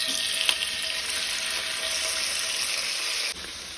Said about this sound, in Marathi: तेल तापले तशें तातूंत आमी सुंगटां घालुया